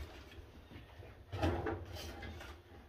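A drawer on a 42-inch Husky toolbox with built-in soft-close actuators slides shut, giving a muted thud and a brief slow glide, heard close up and fairly quiet.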